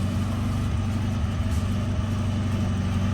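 A 1984 Toyota Hilux 4x4 found in a barn, its engine running steadily at idle, close and continuous, with a low rumbling throb throughout.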